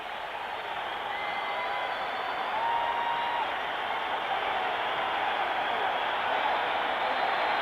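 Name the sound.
arena crowd applauding boxer's entrance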